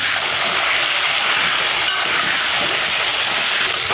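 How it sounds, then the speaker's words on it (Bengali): Potatoes frying in hot oil, seasoned with salt and turmeric, give a steady, dense sizzle that stays loud and even throughout, with no voices. "আলুটাকে আমি ভালো করে ভেজে নেব"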